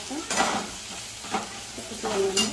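Curry leaves crackle in hot oil over a high flame for egg pulusu, a soft frying hiss broken by a few short bursts of spitting and stirring.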